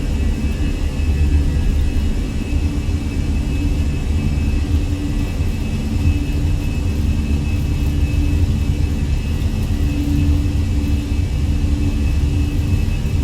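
Simulated Airbus A320 engines in Microsoft Flight Simulator 2020 spool up for a takeoff roll in low visibility, a steady loud jet rumble and whine held without pause.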